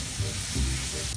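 Salted fish with petai fries in a pan, giving a close, loud, continuous sizzle and crackle with a stirring scrape underneath.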